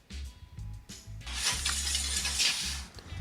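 Bicycle disc brake pads rubbing against the rotor after the calipers are tightened, heard as a rhythmic scraping whir with repeated pulses as the wheel spins, close and fairly quiet.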